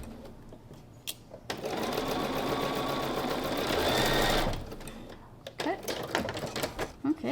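A sewing machine runs steadily for about three seconds, stitching slowly over the seams of a quilt block. Brief handling clicks and rustles come before and after the stitching, and a voice talks nearby.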